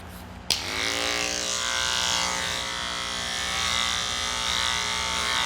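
Electric dog clippers switch on with a click and then buzz steadily and loudly close up while shaving the top of a matted dog's head.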